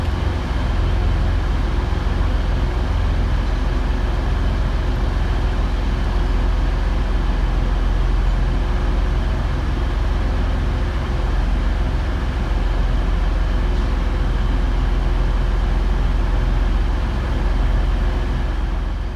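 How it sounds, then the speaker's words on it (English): Two coupled Northern class 195 diesel units, 195007 and 195012, departing Manchester Victoria on the 15:57 to Leeds at rush hour, giving a steady, loud, continuous low rumble and drone that holds evenly throughout with no talk. "Departing through the stanchion is 195007 and 195012, with the 1557 Northern service through to Leeds"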